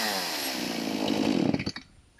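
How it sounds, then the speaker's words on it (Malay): A chainsaw running its chain whines at a steady pitch, then sputters and winds down toward silence. "Jeng jeng jeng, bunyi rantai."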